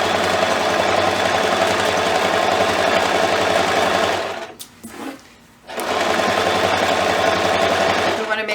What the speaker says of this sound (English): Now we're going to sew it at 1/4 inch along the edge of along those raw edges.